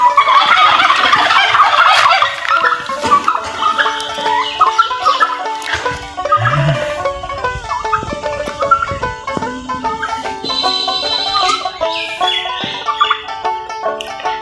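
Several domestic turkeys at a home, including big white birds of about 6 to 8 kilograms, gobble repeatedly in overlapping loud calls, near and busy, with stretches of chatter from the flock and no clear talking.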